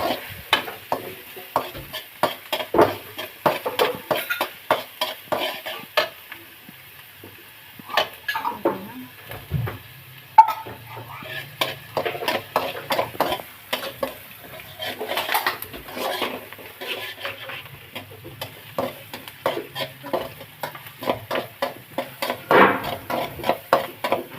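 Onion, ginger and garlic fry in a pan with a low sizzle under constant, busy stirring, as a spoon scrapes and clatters against the metal in rapid taps throughout.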